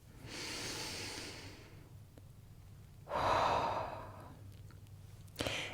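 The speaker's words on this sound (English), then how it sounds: "Okay, another breath." A deep breath drawn in slowly and then released as a long sigh, with a second, louder inhale and exhale following and a brief sharp intake at the end, close and unaccompanied by speech during a guided balance ritual.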